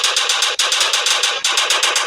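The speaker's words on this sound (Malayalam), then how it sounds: "മെഷീൻ ഗണ്ണ് മതി." A machine gun fires at dinosaurs in the Indian Bike Driving 3D mobile game, a loud, rapid stream of shots broken by two brief pauses, with no talk.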